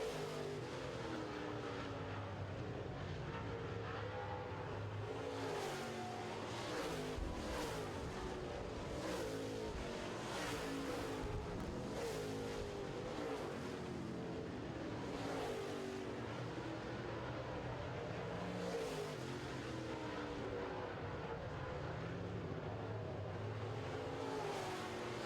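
Late model race cars circle a short oval in a feature race, engines roaring together in a continuous loud wash with swelling passes as the pack goes by.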